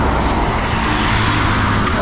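An auto rickshaw pulls up at a roadside where people wait for a ride. Loud, steady engine and roadway rumble fill the scene with continuous traffic noise and no clear breaks.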